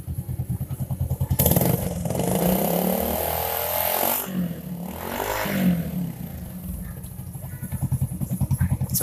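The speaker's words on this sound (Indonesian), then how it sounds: "Kita coba gas Mas ya" Close Honda Supra motorcycle engine with a faulty rectifier regulator, idling with rapid putters, then revved hard into a sustained high whine, dropping back and rising again before settling into a pulsing idle.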